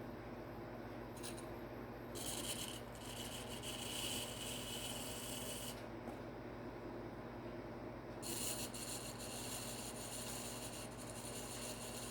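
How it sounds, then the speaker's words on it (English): Clay being trimmed on a mini pottery wheel with a gentle tool touch, a steady faint scraping rasp over a low hum from the motor, rising and falling in short stretches with no voices. "you have to do all this trimming before you take it off"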